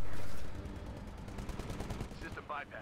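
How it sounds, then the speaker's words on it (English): A Titan mech fires its guns in the video game Titanfall, a rapid, loud stream of automatic shots following an initial heavy blast, with voices starting near the end. "Why is your Titan shooting at me?"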